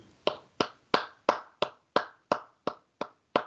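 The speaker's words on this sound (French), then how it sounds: "moi je propose d'applaudir la CAT Burundi" Hands clap in a crisp, evenly spaced rhythm for a presentation by ACAT Burundi, about ten sharp distinct claps each with a short decay, close and fairly quiet, with no voices.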